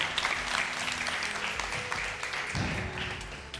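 Sustained applause from a studio audience on a Ramzan TV debate show, dense steady clapping throughout with a few voices mixed in.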